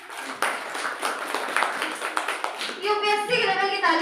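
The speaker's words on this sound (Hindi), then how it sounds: "ताली बजाओ सब लोग इनके लिए" Students in a classroom clap for a classmate, a burst of brisk, uneven hand claps mixed with voices and chatter, ending as talk takes over.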